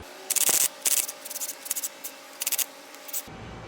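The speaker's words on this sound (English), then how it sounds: "what I'm gonna use is a little scrubbing brush like this. And I'm gonna go between the studs and around the studs" A small scrubbing brush scraping rust from between the wheel hub studs on a car, close bursts of short gritty strokes in an uneven rhythm, alone without talk.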